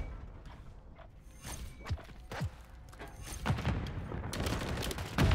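Gunfire in Call of Duty Modern Warfare III (2023) multiplayer, with scattered close shots and bursts building into denser rapid fire toward the end over a low background rumble.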